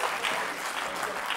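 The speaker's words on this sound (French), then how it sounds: "On peut les applaudir là, très fort." Audience applause for hypnotised volunteers at a stage hypnosis show, a steady dense patter of many hands clapping, loud and continuous across the whole moment with no pauses.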